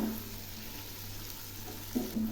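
Potato curry masala with cashew paste fries in oil while being stirred, a soft steady sizzle with brief scraping stir noises near the end, heard close with no speech.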